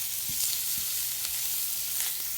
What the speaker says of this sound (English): I'm sizzling because I put that butter in there